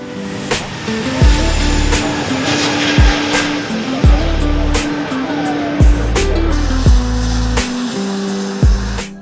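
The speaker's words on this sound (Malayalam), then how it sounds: "തൊട്ടരികിൽ ഫ്ലൈറ്റ് ടേക്ക് ഓഫ് കാഴ്ചകൾ" An airplane taking off from the runway at Nedumbassery airport makes a loud, close engine roar, with periodic thumps and shifting tones over a sustained rumble.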